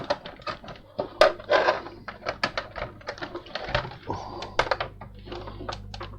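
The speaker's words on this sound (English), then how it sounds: "I think we better test the keyboard now." Keys clack in irregular bursts as someone types on an Atari XL computer keyboard during a repair test, close and moderately loud over a low steady hum.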